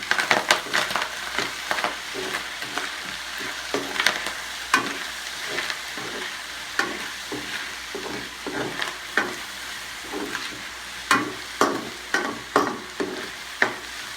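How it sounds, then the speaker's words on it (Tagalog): Pork pata papaitan sautéing in a pan, giving a steady close sizzle broken by sharp pops and crackles with occasional stirring scrapes, no voices. "Ito, kung napapansin nyo, medyo nagpuputukan siya, di ba?"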